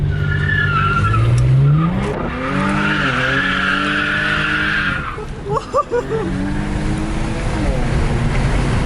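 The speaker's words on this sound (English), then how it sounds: "Let me see if I can speed up the turbo." Turbocharged Infiniti Q50 fitted with K&N intakes accelerating hard, the engine revving up through rising gear pulls with a whooshing turbo spool, loud and close, with a brief lift and flutter before pulling again.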